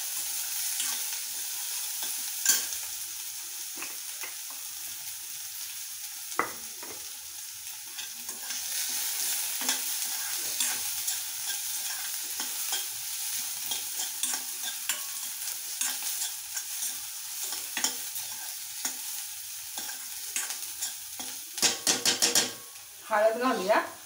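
Onion sautés in a pan until reddish, a soft continuous sizzle with scattered scraping stirs, louder clatter of a utensil against the pan near the end.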